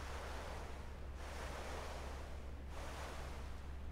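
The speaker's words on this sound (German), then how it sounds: "Die Wellen." Ocean waves roll in a hidden-object adventure game, with a steady low surf rumble and two gentle swells that rise and recede in a slow rhythm, soft and continuous with no voices.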